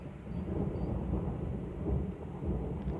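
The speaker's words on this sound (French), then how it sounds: "L'orage gronde." Low, rolling thunder rumbles continuously through a storm, a deep, sustained growl with rain hissing faintly underneath and no voices.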